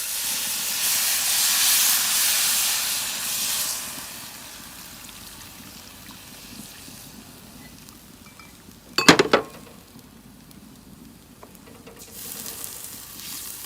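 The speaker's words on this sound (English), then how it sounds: "now it's time to add the broth. This is a vegetable broth." Vegetable broth made from onions, tomato and mushroom stems poured into a hot paella pan, a loud sizzling hiss that fades to a gentle simmer, with a sharp metallic clatter of utensil against pan midway.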